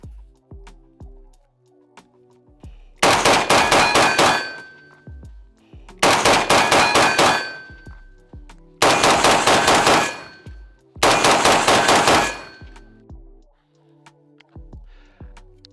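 Four loud bursts of rapid gunfire at paired shooting targets during a STVOL training drill, each lasting a second or two, separated by short pauses filled with quieter tonal sounds.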